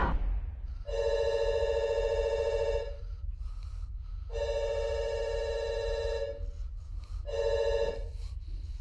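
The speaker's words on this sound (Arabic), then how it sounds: "ها التليفون كيفون" A telephone rings in a Moroccan film scene with three long electronic bursts separated by short pauses. Each ring is bright and steady over a low room rumble, with no talk.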